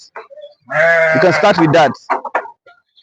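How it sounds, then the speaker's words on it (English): A young Sahelian goat gives a loud, drawn-out bleat up close, followed by a few shorter, softer calls. "They are young Sahelian breed, and this Sahelian goat can grow to be very big."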